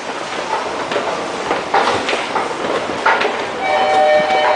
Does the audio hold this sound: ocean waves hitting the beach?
no